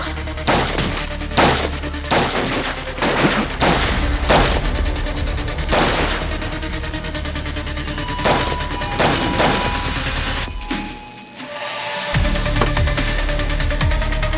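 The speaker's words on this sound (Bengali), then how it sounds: "এখান থেকে পালাও, এই গুলি চলছে। আরে গুলি চলছে এখানে কেন?" Gunfire in a TV crime drama: a rapid series of loud, sharp gunshot cracks in bursts, with a brief lull before the shooting resumes over tense background sound.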